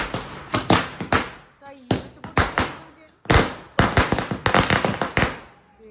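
Sharp firecracker bangs burst in quick clusters, loud and close, with brief pauses between volleys and voices mixed in, at a church feast.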